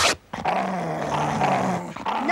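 An old dog growls low and menacingly, a close, sustained rumbling snarl with a brief break near the start and a sharp yip-like edge.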